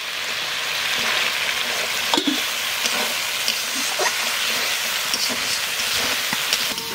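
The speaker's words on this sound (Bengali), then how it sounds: "মশলা ভালো করে কষায় নিচ্ছে" Spices sizzle and fry steadily in a pan for a rohu fish curry with cumin paste, salt, turmeric and green chillies, a continuous close hiss broken by occasional stirring scrapes and clinks.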